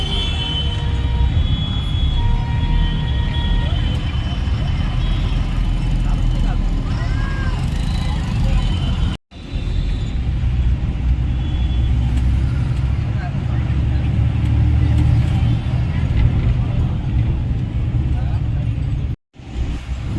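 A bus drives steadily on a road via Shikrapur near Chakan, Pune, with a continuous low engine rumble and road noise, briefly cut off twice.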